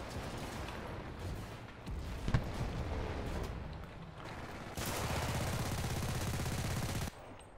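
An MP submachine gun rattles in Enlisted during a Stalingrad battle, with bursts of fire over a steady din of combat and a dense sustained volley near the end, loud and close.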